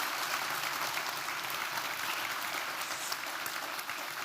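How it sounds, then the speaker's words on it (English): An audience at an evening forum on the universe keeps up a steady, dense round of applause, many hands clapping evenly and alone without any voices on top. "Give a big applause."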